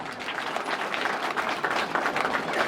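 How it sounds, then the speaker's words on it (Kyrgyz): An audience at a school class reunion, 25 years on, breaks into dense, sustained applause, a continuous wash of many hands clapping at fairly close range. "кол чаап коелучу."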